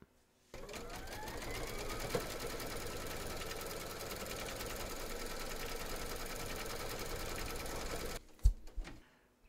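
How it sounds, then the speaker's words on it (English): An embroidery machine stitches fabric in the hoop with a steady, fast mechanical whir and patter for about eight seconds, then stops with a few clunks. "Pop your hoop into your machine and stitch round number 4 to secure it."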